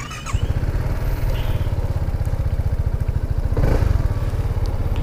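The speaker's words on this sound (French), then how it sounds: "difficile de vous faire écouter le son d'un scooter" A BMW C 400 X scooter engine chugs steadily while riding, a rapid, even low putter that stays loud and close, swelling slightly as it accelerates.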